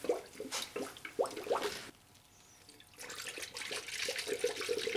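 Coolant glugs and splashes as it is poured from a gallon jug into a Honda cooling system, close and fairly quiet, pausing briefly before the pour resumes.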